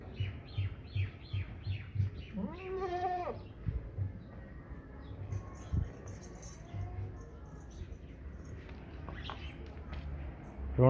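A goat bleats in a wavering call partway through on a goat farm, with bird chirps and other animal sounds around it and a faint murmur of people in the background.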